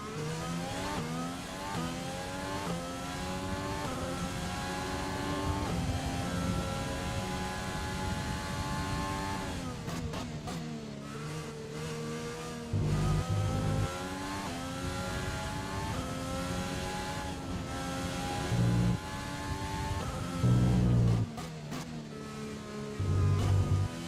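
Race car engines in a racing video game set at Bahrain, revving and accelerating continuously with rising and falling pitch through gear changes, steady and fairly loud, with no talk over them.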